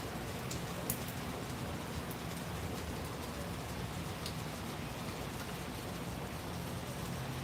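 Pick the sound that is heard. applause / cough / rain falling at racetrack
rain falling at racetrack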